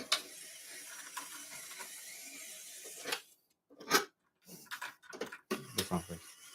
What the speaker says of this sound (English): Handy dandy screwdriver. You can start screwing from here.